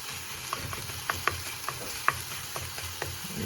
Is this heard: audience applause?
no